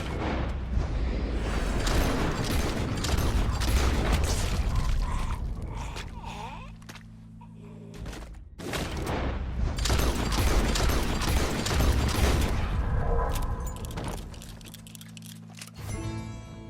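Dense bursts of video-game gunfire crackle and boom almost continuously, with a brief lull before the shooting resumes, mixed with a voice reacting.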